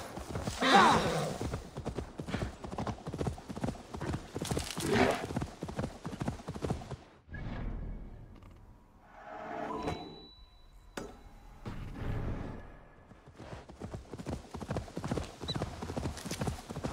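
Horse hooves clip-clop in a quick, steady rhythm in Assassin's Creed Valhalla on PS5, pausing midway with some faint ringing tones before the trotting resumes.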